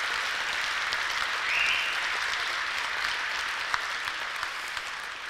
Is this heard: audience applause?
yes